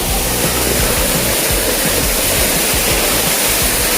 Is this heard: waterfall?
yes